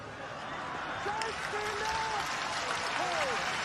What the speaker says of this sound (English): Polite applause.